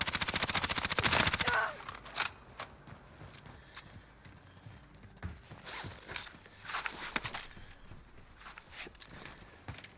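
Gunfire in a shooter video game: a rapid automatic burst at the start, then scattered single shots and cracks, some nearer and some farther, over a busy background.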